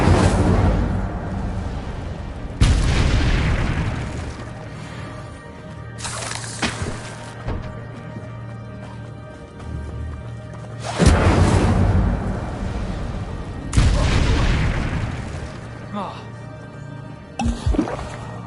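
Fiery Incendio spell blasts in Hogwarts Legacy come as loud whooshing bursts, several in a row with rumbling booms between them, while a voice calls out the spell name over the game sounds.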